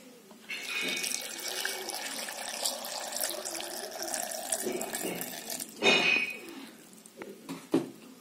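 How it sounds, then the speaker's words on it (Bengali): Water pours steadily into a container while juice is being made, a continuous splashing rush with a louder gush near the end and faint background noise. "এবার এর মধ্যে কিছুটা পরিমাণ জল দিয়ে নিচ্ছি।"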